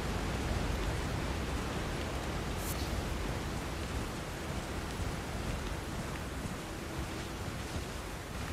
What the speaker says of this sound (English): Why is it raining so hard?